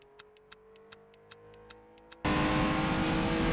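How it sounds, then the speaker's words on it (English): A race car on a 1956 Goodwood circuit bursts in as a loud, sustained engine roar near the end, after a quiet stretch with faint regular ticking. "I hear a car on the track."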